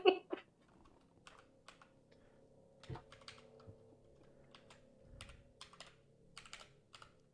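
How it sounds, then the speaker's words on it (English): Slow typing on a computer keyboard, with sparse, irregular key clicks spaced out one by one, close and fairly quiet over a faint low hum. "I am typing very slowly because I want to get it right."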